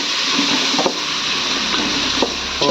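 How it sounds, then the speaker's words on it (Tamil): Chicken fries in a pan with paste and a little salt, giving a continuous close sizzle broken by a few quick stirring knocks and scrapes. "இது வந்து வறுத்து விடுங்க."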